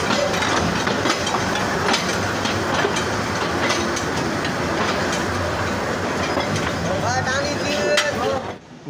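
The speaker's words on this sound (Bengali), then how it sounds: "তিস্তা এক্সপ্রেস যার ট্রেন নাম্বার 708 কাঙ্ক্ষিত ট্রেনটি প্রবেশ করলো গফরগাঁও রেল স্টেশনে।" Tista Express train 708 entering Gafargaon railway station, with continuous rumbling wheel clatter and rhythmic clicks, a few squeals of wheels near the end, loud and close as the carriages roll past, with voices in the background.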